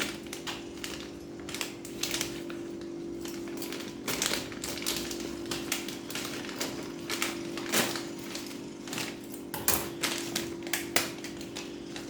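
Scissors snip open a plastic bag of Persil gel detergent at close range, a string of sharp taps, crinkles and soft thuds with brief cutting bursts over a steady low hum, no voice.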